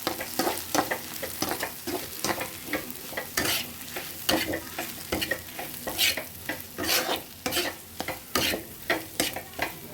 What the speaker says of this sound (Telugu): ఆ పాలకూర వేగుతుంది కదా